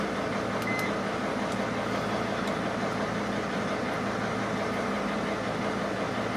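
A Mercedes Sprinter diesel engine with a faulty glow plug circuit idles after starting, a steady close rumble holding even throughout with a faint ticking on top.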